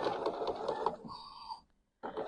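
A sewing machine sews down the line of a quilt edge in a quilt-as-you-go project, a close, dense mechanical whir with a shift in tone midway, then a brief stop before it resumes.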